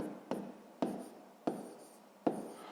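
Handwriting during a sixth-grade math lesson: four crisp strokes, each tap followed by a short scratchy trail, spaced unevenly and close to the listener, with no voices.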